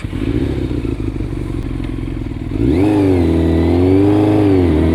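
A 600cc motorcycle engine idles with a steady rumble, then revs hard at full throttle, its pitch rising and holding high and loud with no talking.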